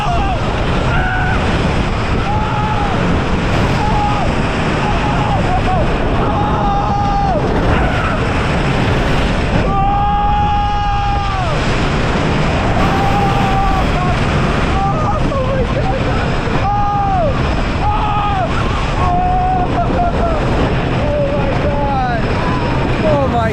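Roaring wind and rumbling track noise from the Hades wooden roller coaster at Mt. Olympus fill the ride, loud and constant, with riders' voices and screams riding over the din.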